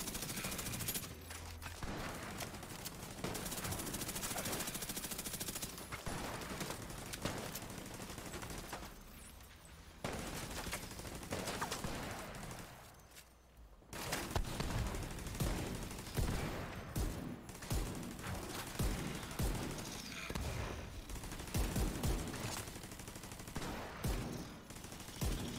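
SMG fire in The Division 2 shooter game, long rattling bursts of rapid shots with brief gaps and a short pause partway through, loud and close, mixed with other battle noise.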